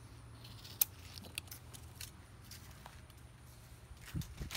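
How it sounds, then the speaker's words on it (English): Scissors snip once through a Kamado Joe grill gasket, a single sharp close cut followed by a few faint clicks and handling noises in a quiet room. "I'm just going to get a pair of scissors and"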